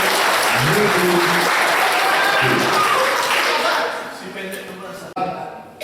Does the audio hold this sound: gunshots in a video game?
no